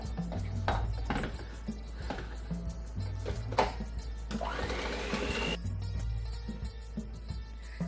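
A stand mixer kneads dough with a steady motor hum and repeated rhythmic knocks and thumps, fairly close and loud, with no talking.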